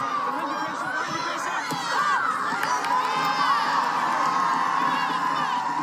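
A partisan crowd at a 2022 NCAA women's college soccer match between Western Washington and Columbus State, cheering and shouting in a steady roar, with children's shrieks and whoops rising above it as the final seconds tick away.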